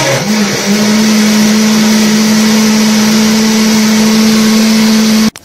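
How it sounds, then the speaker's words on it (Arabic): A kitchen blender blending tomatoes whirs loudly at a steady high speed for about five seconds, then switches off abruptly. "واروح اضربه في الخلاط"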